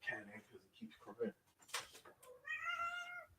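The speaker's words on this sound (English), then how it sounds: "I gotta lift my cat in because it keeps crying" A house cat meows and cries to be let inside, a couple of drawn-out plaintive meows rising near the end, after a stretch of someone talking nearby.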